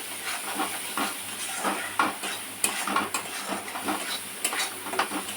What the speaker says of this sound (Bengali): জিরে কাশ্মীরি লঙ্কা দিয়ে একটু নাড়াচাড়া করে নিচ্ছি